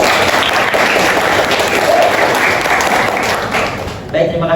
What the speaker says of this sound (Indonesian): Tepuk tangan untuk Tari